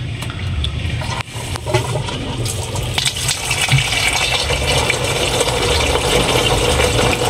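A new washing machine fills with water, making a steady rushing hiss over a low mechanical hum that runs without break and with no talking.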